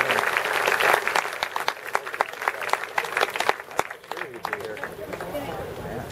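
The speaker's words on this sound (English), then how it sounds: "Let's give a round of applause for Mr. Dan Guerrero." A crowd at a baseball championship celebration claps and cheers in sustained applause that gradually thins, with chatter mixed in.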